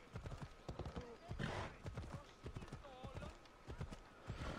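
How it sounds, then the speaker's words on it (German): Horse hooves in the video game Assassin's Creed Odyssey clip-clop in a quick, steady rhythm, with a brief whinny, while a person talks over the galloping. "Mein Pferd kann nicht mehr schnell laufen."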